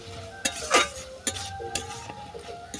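A spatula stirs shredded banana stem with cucumber in a pan to mix in salt, giving a few soft scrapes and taps over a low sizzle, close and quiet, with no talk.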